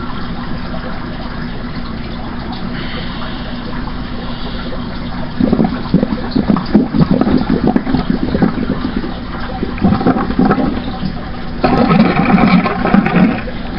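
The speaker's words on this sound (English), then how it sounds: "You'll know when you've got all the water out, because it'll make kind of a gurgling noise." Water and air gurgling as it is blown out through the hose of an Eheim 2217 external canister filter, bursts of wet bubbling that come in uneven surges over a steady background, loudest near the end.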